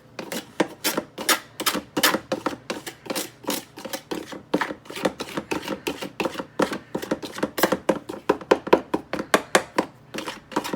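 A pastry cutter works shortening into flour for a homemade pie crust, making a long, steady run of quick dry scraping chops and taps in an uneven rhythm, close up with no talk.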